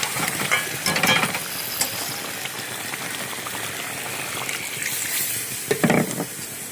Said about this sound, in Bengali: তো মশলা দিয়ে ভালো করে নেড়ে নিই।